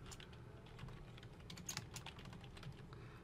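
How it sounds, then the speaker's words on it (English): Soft, quick keystrokes on a computer keyboard while typing in Google Docs, quiet and close, with no talking. "I'm going to type Works Cited."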